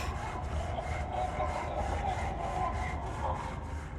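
Steady, continuous sawing drones without a break in the horror game Amnesia: The Dark Descent, a dense grinding rasp with a faint repeating pulse, loud and alone with no talk.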